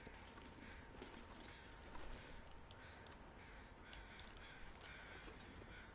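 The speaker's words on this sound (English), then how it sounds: "I hear crows." Crows caw in The Long Dark video game, a few harsh calls spaced across the stretch over a steady wind-like wash, faint and somewhat distant.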